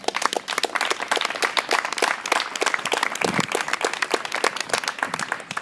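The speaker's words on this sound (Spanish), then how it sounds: "un fuerte aplauso" Loud, lively applause from an audience at a political talk in a Spanish town, rapid overlapping claps running throughout.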